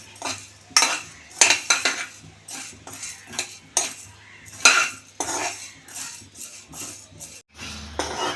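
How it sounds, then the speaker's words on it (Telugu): Curry leaves dry-roasted in a pan without oil while being stirred: repeated close metallic clinks and scrapes of a spoon against the pan in an uneven rhythm, with no talking. "ఇప్పుడు ఇలా కలుపుతూ ఉంటే అన్ని పక్కల బాగా ఎగుతాయి అన్నమాట"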